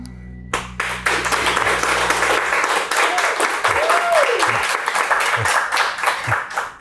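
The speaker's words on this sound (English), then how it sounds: "We don't normally get applause like that when we finish a model." Loud, dense applause and clapping erupts right after a Lego model is finished, sustained and close, with a few voices cheering and a whoop rising through it.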